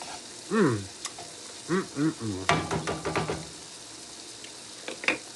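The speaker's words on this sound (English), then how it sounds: "Those onions and peppers are cooking in there with the sauce" Steak, onions and peppers sizzling in sauce in a pan, a steady broadband fry under a few short bursts of talk and some clinks of a utensil against the pan.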